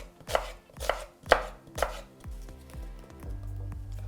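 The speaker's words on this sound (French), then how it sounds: "Maintenant, on va rajouter les fruits qu'on va découper" A knife chops half an apple into small cubes on a cutting board, four sharp, crisp chops followed by a run of lighter, quicker taps, close and clear with no talking.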